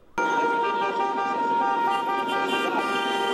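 Car horns blare loudly and continuously, several sustained honks layered together in a long, unbroken chorus of traffic noise, from a protest honking convoy on Rua da Consolação in São Paulo.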